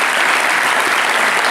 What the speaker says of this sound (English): So I think a big round of applause for John Christodoulou.